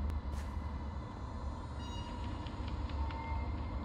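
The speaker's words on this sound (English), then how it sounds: "Okay, that was just a regular Minecraft cave sound." Minecraft cave ambience plays as a low, rumbling drone with faint scraping and distant metallic accents, a steady, eerie bed of sound with no voices.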